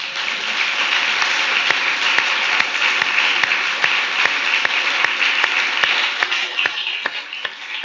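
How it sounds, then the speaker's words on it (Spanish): Sustained applause from a church congregation honoring the pastoral family, a dense wash of many hands clapping steadily throughout, with a few sharper individual claps standing out. "Para la familia pastoral pido un aplauso también."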